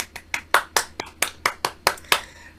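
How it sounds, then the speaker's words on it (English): Online participants clapping off mute on a video call, a sparse run of about ten distinct hand claps spaced fairly evenly, close to the microphone and slightly echoey, with a faint steady hum underneath. "come off mute and give Jenny a huge round of applause to thank her for the session today."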